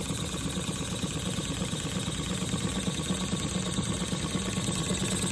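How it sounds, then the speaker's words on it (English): A Stuart 10H model steam engine runs on compressed air at low pressure, giving a continuous, steady mechanical chuffing and whirring with a dense hiss, close and even throughout. "This is running on 4 psi of air pressure."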